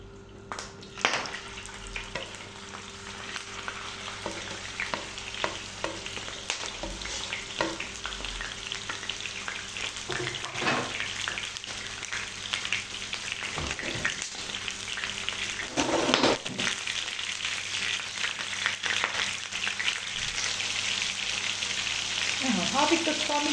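Chicken breast meat fries in a pan with salt for shawarma, giving a steady sizzle broken by scraping and clinking as it is stirred, growing slightly louder toward the end.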